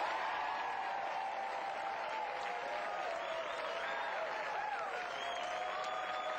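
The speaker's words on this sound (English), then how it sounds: "They're clapping for something else." A studio audience claps in infomercial footage, a steady, dense wash of applause lasting throughout, even in level and somewhat distant.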